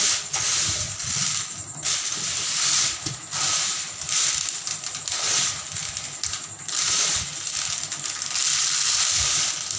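Wheat grains poured from a glass measure, a steady gritty rattling stream with brief pauses between pours, fairly close and continuous over broadband hiss.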